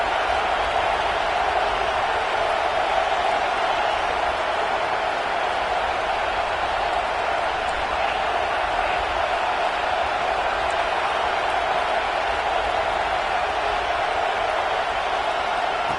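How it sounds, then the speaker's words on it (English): A stadium crowd at a football game roars in a continuous, dense wash of cheering during a third-down play. The noise is loud, sustained and distant, with no clear individual voices. "Third down, and the crowd really getting into it."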